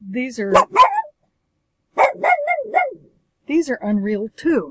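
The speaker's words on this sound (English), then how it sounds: "I have a dog that barks" A dog barks in short bursts mixed in with a person talking nearby; the barks and speech overlap throughout.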